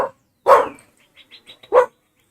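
A dog gives two loud, close barks about a second apart, with faint short yips or squeaks in between.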